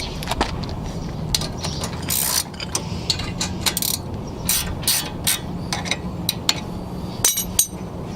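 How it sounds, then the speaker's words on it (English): Ratchet loosening 14mm brake caliper bolts on a 2010-2014 Hyundai Sonata front brake, heard as close, irregular bursts of clicking and metallic clinks over a steady low background hum. "go on ahead and loosen up the 2 14mm bolts up top and one right here on the bottom to loosen up the brake caliper"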